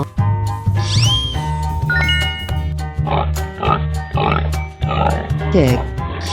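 A cartoonish pig oinks in a 3D animal video game, its grunting calls repeating over a steady, pulsing game music loop with bright jingling chimes.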